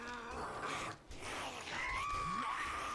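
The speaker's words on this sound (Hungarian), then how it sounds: "Na meg egy sikítős zombi" A screaming zombie in the survival game 7 Days To Die lets out strained, wavering shrieks and groans. The cries rise and fall over game ambience.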